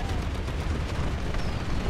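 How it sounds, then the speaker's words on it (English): Fireworks burst at a celebration, a dense continuous barrage of crackling, booming pops that blur together into a loud, unbroken rumble. "you should see the fireworks, you guys"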